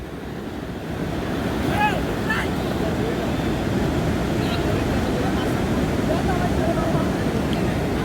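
Sea waves surge and roar continuously at Cox's Bazar beach, a dense broadband wash with heavy wind buffeting the microphone, loud and close, with faint voices and calls drifting in the distance.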